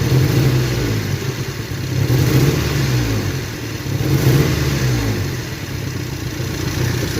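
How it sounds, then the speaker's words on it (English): A misfiring Toyota 4Runner engine with waste spark ignition revs as the throttle is cracked quickly, a close rough mechanical roar swelling twice over a running idle, with no talk. "Crack the throttle real quickly."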